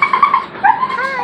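Abandoned rescue puppies at a fairground shelter whimper and yip in thin, high, wavering cries, several short close whines in quick succession with no talking.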